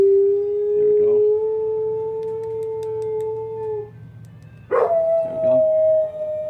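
A dog howls and whines for ice cream, giving a long, steady, rising howl followed by a second, higher whining howl. Each is loud and close, and a person speaks briefly between them.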